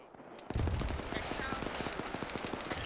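Rapid bursts of machine gun fire in ArmA 3 during a military operation, a sharp onset followed by a steady rattling string of shots that stays fairly close and loud.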